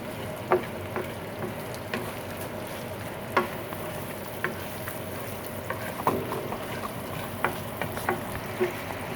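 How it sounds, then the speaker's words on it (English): Cashews and spices roast in a pan for yellow rice, giving a steady low sizzle and crackle with scattered sharp pops and light stirring clicks, close and continuous with no talking. "We wait for everything to get nicely roasted, and cashews to get a little bit of brownish color too."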